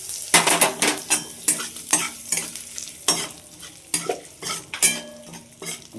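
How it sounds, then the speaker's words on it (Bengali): Spice tempering with curry leaves and asafoetida frying in a pan: a bright crackling sizzle broken by regular scraping and clinking strokes of a spoon against the metal. "মশলা ফোড়নটা দেখো ভাজা ভাজা হয়ে গেছে।"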